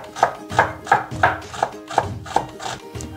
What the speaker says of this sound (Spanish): cogemos la cebolla y cortamos un poquito así para hacer el sofrito